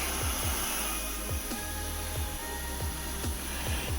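A Coleman Dual Fuel 533 camp stove burner roars steadily on high, a close, constant rushing hiss with faint rhythmic low ticks beneath it and no talking.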